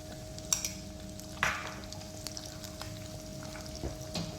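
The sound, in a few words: stirring yogurt into fried onions with a spoon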